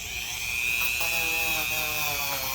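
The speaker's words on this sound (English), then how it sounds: "You can take the Dremel, clean that up too." A Dremel rotary tool spins at high speed against the carburetor bowl of a Yard Machine snowblower, a loud continuous close-up whine with slight pitch shifts as it grinds deposits away.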